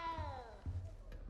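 A small cat in the Hogwarts Legacy video game gives a drawn-out, falling meow up close, followed by a brief second mew, with faint background sound from the game.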